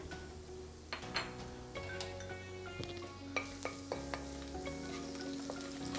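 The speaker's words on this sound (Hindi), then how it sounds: "अब वोक में ऑयल गर्म हो गया है, तो इसमें लगभग 1 चम्मच के करीब कटा हुआ लहसुन डाल देंगे" Steady crackling sizzle of chopped garlic frying in hot oil in a wok, with occasional stirring clinks and scrapes of a utensil.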